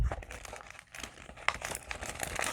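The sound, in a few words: folding and squishing a paper junk mail envelope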